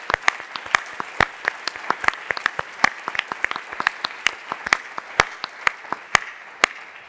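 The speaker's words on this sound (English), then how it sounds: "So I would love to give them a very big round of applause." Sparse, distinct claps ring out from an audience at a closing panel of an annual meeting, individual sharp hand claps in an uneven rhythm, moderate and fairly close.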